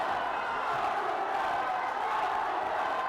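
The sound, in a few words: boxing crowd cheering loudly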